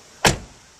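A 2000 BMW E39 M5 door shuts once with a single solid, close thud that decays quickly into quiet, with no talking.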